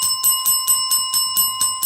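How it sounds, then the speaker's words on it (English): Small hand bell rung indoors, a bright metallic ring repeated about eight times in quick, even succession, close and loud, ringing alone without talk. "And I got a newbie bell."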